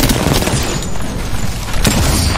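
Grenades explode in Apex Legends, loud rumbling blasts with a sharp burst near the start and another toward the end, over dense game noise.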